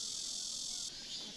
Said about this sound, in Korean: 말매미는 끊어짐 없이 긴 울음소리를 낸다.